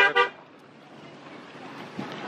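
A car horn gives a short double toot in street traffic in Sapa, Vietnam, loud and close at the start, then fades into a steady traffic rumble with a faint bump near the end.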